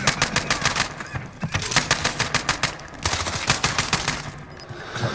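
Machine gun fire in a Warzone zombies match, loud bursts of rapid repeated shots in several clusters separated by brief pauses, close and dominant.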